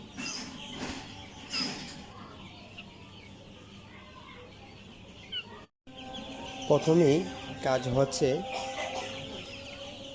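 Young chicks peeping and clucking, some showing open-mouthed breathing and sneezing; soft calls sit under someone talking early on, then clearer, closer cheeps follow after a brief break.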